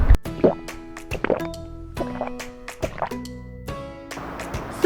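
Water poured or sipped during a meal break at home, heard as a run of close drips, plops and small liquid splashes with short gaps between them.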